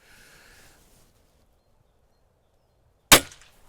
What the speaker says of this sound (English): Our first shot here was straight through the crown of the helmet